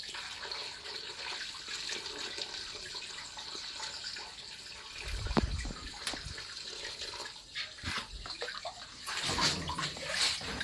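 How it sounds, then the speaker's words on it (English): Steady rushing and splashing of water draining from a catfish egg incubation tank, continuous and fairly close, with a few louder gushes near the end. "I'm going to reduce the water."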